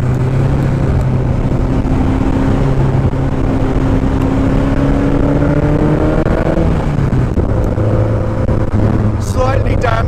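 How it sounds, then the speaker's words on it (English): A tiny, low-slung GBS Zero, a Lotus 7 style car, accelerates hard along a slightly damp road toward some corners. The engine note climbs steadily and loudly throughout, with a brief dip near the end, and there is no break in the roar. "it feels pretty scary when you're accelerating like that, so close to the ground with it's such a tiny little car as well"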